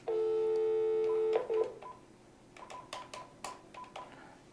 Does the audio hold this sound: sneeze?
no